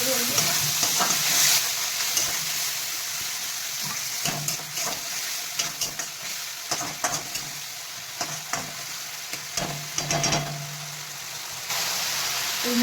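Spice paste frying in oil for a Bengali parshe fish curry, a dense continuous sizzle close by with repeated scraping stirs of a spoon throughout.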